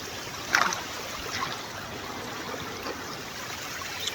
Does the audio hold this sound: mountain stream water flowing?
yes